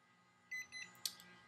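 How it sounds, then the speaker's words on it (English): A facial skin care device gives a few short, faint electronic beeps in quick succession in a quiet indoor room. "it'll beep when it wants me to move to another part of my face."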